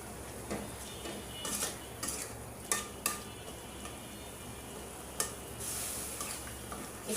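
Spiced potatoes being stirred in a cooking pan for an egg and potato dish, with repeated scraping and clinking of a utensil against metal over a steady low sizzle, close and moderately loud, with no talk.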